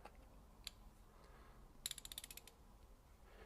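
A Craftsman Overdrive 180-tooth ratchet clicks rapidly through a quarter turn, a fine, even burst of about a dozen tiny metallic ticks, close and quiet, with a stray click before it.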